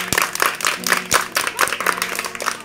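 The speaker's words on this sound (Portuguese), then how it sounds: "Aplauso" An audience claps at a Gideões evangelistic church gathering in Suriname, a series of close, fairly rhythmic hand claps over a faint steady tone, with no talk.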